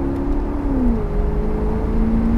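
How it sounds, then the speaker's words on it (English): A 2011 Maserati GranTurismo convertible with a Ferrari-derived engine drives in sport mode, its exhaust giving a steady loud drone with a tone that dips and then rises again, heard from inside the car. "All right, we're driving the Maz in sport mode. Listen to that exhaust right now."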